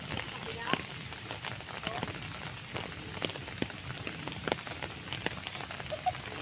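Rain falls steadily in an outdoor garden maze, a dense pattering hiss with scattered sharp drips on leaves and surfaces, continuous and moderately near.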